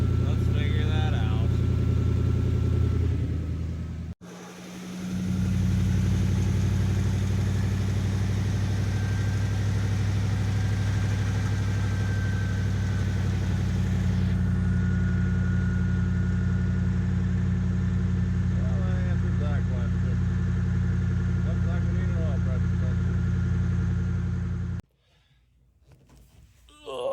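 A project car engine fired up after a new oil pressure sensor was fitted, idling steadily and loudly for about twenty seconds with a deep even hum, cutting off abruptly near the end.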